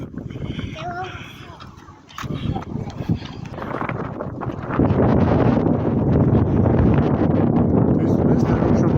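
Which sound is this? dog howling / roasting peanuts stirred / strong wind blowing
strong wind blowing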